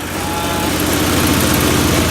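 A John Deere 420 lawn tractor engine running rough on only one cylinder, idling with a steady, heavy, shaking low rumble throughout, close and loud.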